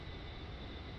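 An A-10 jet in the DCS World flight simulator passes by as a steady, broad engine roar that stays loud and even for the whole moment, with no talk.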